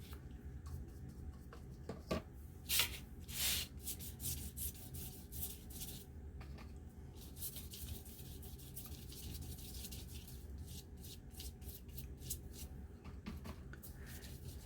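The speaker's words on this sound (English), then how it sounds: "doesn't matter if I change directions of my brush" A brush spreads a thin coat of finish on the worn cover of an antique cook book, giving soft, continuous rubbing strokes with a few brief louder swipes, close and steady throughout with no talking.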